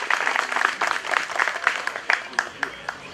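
Audience applause at the opening speeches of a traditional helva day in Eğirdir, dense, even clapping from a crowd, close and steady, thinning out toward the end.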